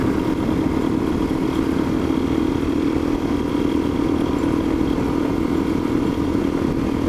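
KTM off-road motorcycles passing on a dirt trail near a ghost town, a loud continuous engine drone close by with no clear voices.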